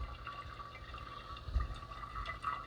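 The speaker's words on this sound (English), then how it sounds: "And you can hear it draining right now." Maple syrup drains through a filter press during home syrup making, a soft continuous trickle and gurgle of liquid heard close up, steady with small surges and no talking.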